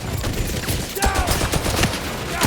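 Gunfire in the video game 007 First Light, with dense, continuous bursts of shots filling the clip loudly and without pause.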